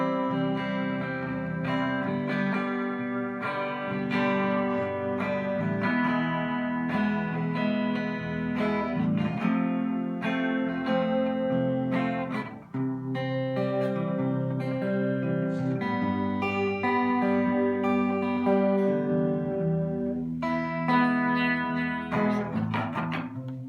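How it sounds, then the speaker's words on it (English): Electric guitar played through a chorus pedal on a pedalboard, a steady stream of strummed chords and picked notes with a thick, sustained, harmonically rich tone, loud and continuous with no talking. "This is a chorus pedal that does weird."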